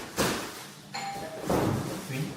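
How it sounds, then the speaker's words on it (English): A two-tone doorbell chime rings once at a condo, clear and fairly close, amid a brief thump and faint background voices. "Doorbell works"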